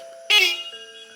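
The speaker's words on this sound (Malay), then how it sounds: "Cuba tekan horn sekali." A car horn is pressed once, giving a sudden, short, bright honk that cuts in loudly and fades quickly over a faint steady tone.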